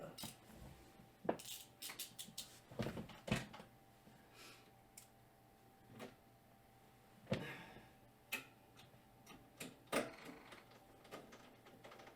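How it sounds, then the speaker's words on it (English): A small Milwaukee ratchet clicks in quick, irregular bursts of sharp ticks close by, mixed with a few louder knocks and clacks and quiet stretches between them. "I think the ratcheting mechanism on this little Milwaukee actually works better than the one on the big Milwaukee."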